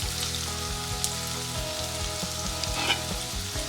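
Amla chutney frying in a pan gives a dense, steady close sizzle and crackle, with soft scraping stir strokes repeating underneath throughout.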